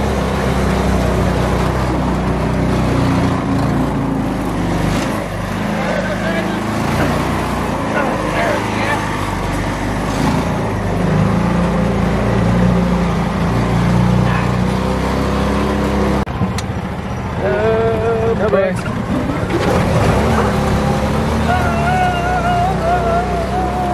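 A golf cart with a 6.5 hp engine swap runs at full throttle off-road, a loud continuous buzzing engine roar close by, with people talking over it.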